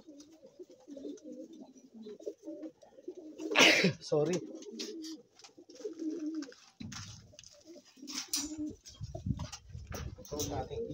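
Racing pigeons coo steadily in a loft, a low, throaty murmur that runs on throughout. A person talks over it, and wing flaps and rustles break in now and then.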